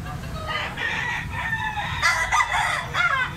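A young Kelso bloodline gamecock stag crows nearby in a couple of ragged, strained bursts, with faint background noise.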